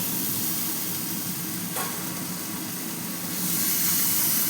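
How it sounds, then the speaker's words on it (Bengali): Water lily stems tipped into spice paste frying for a shrimp curry give a steady, fairly loud sizzle and hiss with a brief sharper burst partway through, and no voices. "এবার এতে আমি শাপলাগুলো দিয়ে দিচ্ছি।"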